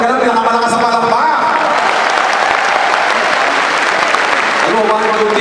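Loud, dense applause from a crowd at a success-story event, a steady wash of clapping lasting several seconds with voices and music-like tones faintly underneath at the start and end.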